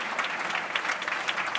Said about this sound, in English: please, a round of applause for our fantastic guest